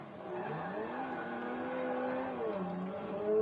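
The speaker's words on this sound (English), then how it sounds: "Unlock this car, unlock my car." A car in GTA 5 drives off, its engine note rising steadily and faintly in a short burst with a slight tire edge and no talking.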